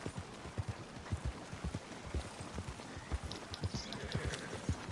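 Horse hooves clip-clop in Red Dead Redemption 2, a steady, fairly quiet rhythm of hoofbeats on ground at a walking gait, with faint ambient game sounds behind.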